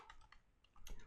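Computer keyboard typing: a short run of quick, light key clicks, close and fairly quiet, with a slightly louder burst of keystrokes near the end.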